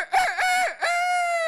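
A voice imitates a rooster's crow, a couple of clucking syllables rising into a long, strained, drawn-out call, close and loud, at a comedy open mic.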